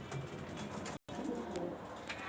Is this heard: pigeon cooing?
yes